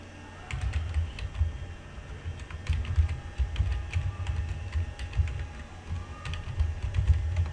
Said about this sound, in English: Type your email in here